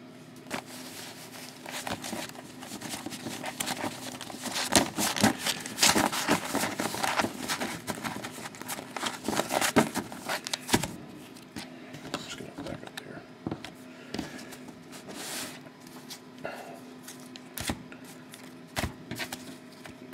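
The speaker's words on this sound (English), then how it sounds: "I'm going to shuffle them one more time." Stack of 2011 Timeless Treasures baseball trading cards shuffled by hand, with repeated papery riffles and taps running throughout, close and moderately loud, while someone talks over parts of it.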